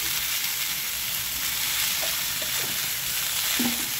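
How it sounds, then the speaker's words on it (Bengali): Vegetables with turmeric and salt dry-fry in a pan without oil, a constant close hiss and sizzle with occasional scrape and stir sounds. "এটাকে খুব ভালোভাবে এখন আমি ফ্রাই করে নেব"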